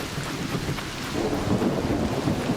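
Thunder from lightning strikes in the ARC Raiders video game rolls on as a steady, dense rumble with rain-like hiss, swelling louder halfway through and continuing without a break, with no voices.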